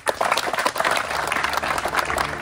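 A room of students claps for a girl, with dense, steady applause from many hands close by that carries on for the whole moment without a break.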